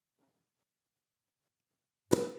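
A Prosecco bottle cork pops once, sharp and close, after near silence, followed by a brief fizzing hiss as the bubbly foams.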